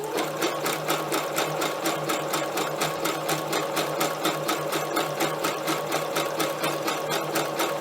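A sewing machine stitching scrappy fabric clusters onto fabric for gift cards runs in a steady, fast mechanical chatter, close and constant throughout.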